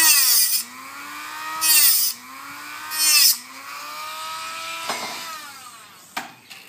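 Metal tuba tube end being trimmed with a tool, close and fairly loud, three bursts of bright grinding or sawing over a ringing, pitched metallic resonance, then a couple of sharper knocks.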